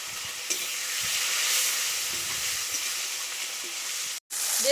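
Fish roe and fat hit hot oil in a pan for a spinach dish, giving a loud, steady, hissing sizzle that stays close and continuous, broken by a brief gap near the end.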